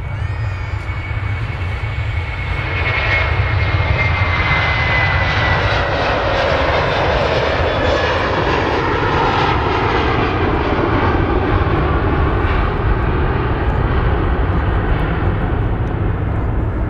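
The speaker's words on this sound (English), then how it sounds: "Here comes the Aer Lingus" An Aer Lingus Airbus A330 airliner passes at an airport, its jet engines producing a loud, sustained roar that swells and holds throughout, with no talk over it.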